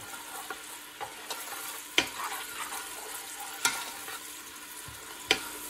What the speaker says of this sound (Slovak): Cibuľu som nechal orestovať do sklovita.